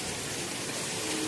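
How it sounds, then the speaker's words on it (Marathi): Heavy rain drums on a metal sheet roof during a monsoon downpour, a dense, even roar of hissing impacts with no pauses. "हा बघा पावसाचा आवाज, पत्र्यावर पावसाचा दणदणा पडत आहे"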